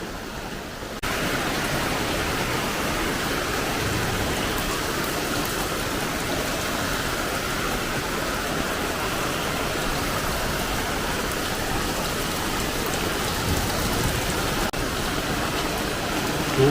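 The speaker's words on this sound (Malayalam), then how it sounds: "ഒരു രക്ഷയില്ലാത്ത മഴയാണ്" Heavy rain pours down steadily around a house, a dense, loud, unbroken hiss of drops on surfaces that holds at the same level from start to finish.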